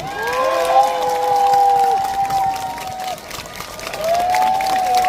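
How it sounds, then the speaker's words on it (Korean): Rally crowd at a Korean presidential candidate's street speech by Yatap Station, applauding and cheering outdoors as a loud, continuous wash, with sustained shouts and chants rising over it throughout. "박수 한번 주세요, 여러분"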